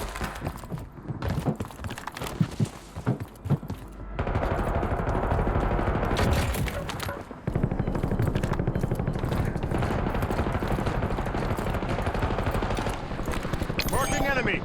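Dense, loud video-game gunfire in Call of Duty Warzone (Black Ops 6, Rebirth Island), with bursts and sustained automatic fire running almost continuously, layered with game voice callouts.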